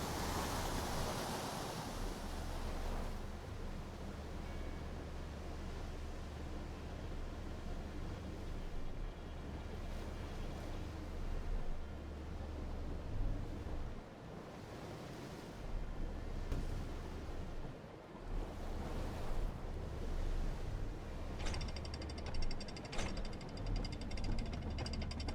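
Rushing white water roars in the video game Outer Wilds, a steady, broad wash of turbulent water that swells and dips, filling the scene without talk.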